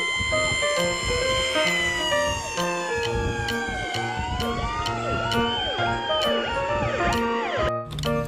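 A fire truck siren wails continuously with rising and falling sweeps over a dense, layered backdrop of other sirens and traffic, loud and close throughout.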